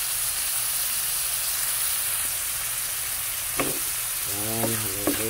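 Mussels with oyster sauce sizzle loudly and steadily in a hot pan, a constant dense hiss close up with occasional stirring scrapes and a brief voice near the end.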